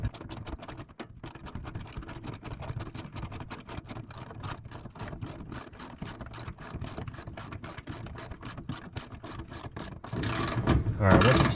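A hand wrench ratchets in rapid, steady clicks while tightening a bolt to mount a clamp for a truck toolbox, close up, with a brief louder rustle near the end.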